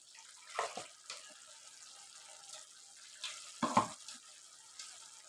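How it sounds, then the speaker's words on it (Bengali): Rinse water from a mixer grinder jar is poured into a pan of boal fish curry: faint, intermittent splashes and gurgles in short bursts, with quiet gaps between them. "মিক্সি ধুয়ে সমস্ত জলটা দিয়ে দেবো"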